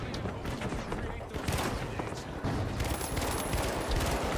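Rapid bursts of automatic gunfire in The Finals video game shooter, dense and continuous near-field shots with clustered volleys, louder after the midpoint, under a busy game mix with a voice speaking briefly.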